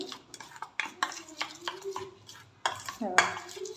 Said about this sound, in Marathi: असं मिक्स केलं की कळतं आपल्याला किती पाणी हवं आहे